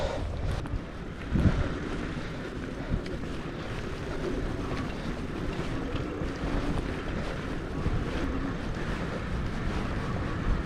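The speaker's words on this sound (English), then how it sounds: "That ocean breeze feels real good." Steady ocean breeze on a secluded sandy beach, a constant windy rush buffeting the microphone with a soft surf-like wash, no talking over it.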